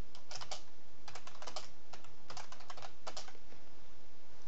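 Fast typing on a computer keyboard in short bursts of close, crisp key clicks with brief pauses between them, and nobody speaking.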